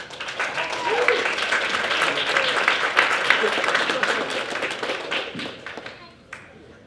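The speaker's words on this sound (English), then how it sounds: "We can give it up here now for Awkward and Stumpberry" A crowd applauds with dense clapping and scattered cheers that hold steady, then fade out toward the end.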